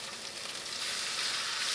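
A hot pan sizzles steadily on a stove while chicken stock is being made, a bright, continuous crackle close by that swells slightly louder partway through, with no one talking.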